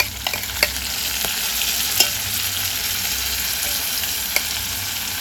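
Chopped tomatoes fry in a pan with a steady broadband sizzle, stirred by a utensil that scrapes and clicks against the metal a few times, close and with no talking.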